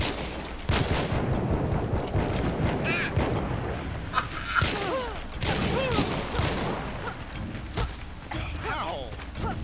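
Gunfire in the multiplayer shooter Hunt: Showdown, with a flare gun among the weapons: repeated sharp shots and bursts over a dense, noisy game soundscape, while players talk excitedly throughout.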